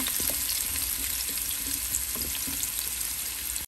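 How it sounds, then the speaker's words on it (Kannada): Bitter gourd is stir-fried in a pan, with a loud, steady sizzle of hot oil close by and a few light scrapes of stirring through it. No one speaks. "ಈಗ ಇದನ್ನು ಸ್ವಲ್ಪ ತಿರುಗಿಸ್ಕೊಳ್ಳೋಣ."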